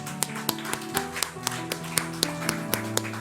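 A church congregation claps during a gift presentation, with sharp individual claps forming an uneven, loosely rhythmic patter over a background of organ-like sustained tones.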